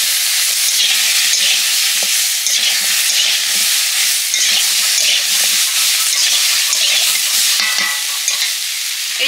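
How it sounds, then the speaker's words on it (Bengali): Papaya pieces are stirred in a hot pan, a loud, close, continuous sizzle and hiss with repeated scraping strokes throughout. "এবারে পেঁপেগুলো দিয়ে অল্প একটু নেড়ে নিচ্ছি"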